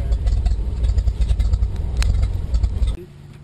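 Seaplane engine running steadily with a low, rumbling drone inside the cabin as the plane taxis on the water toward the dock, then abruptly cut off near the end, leaving quiet.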